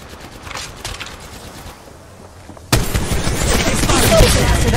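Gunfire in the mobile battle royale shooter Apex Legends Mobile, a dense burst of rapid shots that suddenly erupts loud and sustained after a quieter stretch of background game noise.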